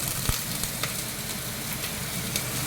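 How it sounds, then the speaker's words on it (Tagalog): Chicken tinola ingredients with ginger sautéing in a pan, a steady close sizzle with a few sharp crackles and pops, without talk. "Kayaan lang muna nating magisa ang ating mga sangkap"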